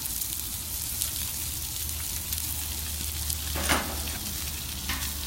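Continuous crackling sizzle of tomatoes charring on a hot griddle, steady and close, with a low hum underneath and a few faint clicks.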